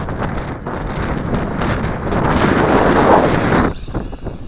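Strong wind buffets an MJX X400 drone flying high on a windy day, a loud, continuous rushing roar of microphone wind noise with a faint whine of motors behind it.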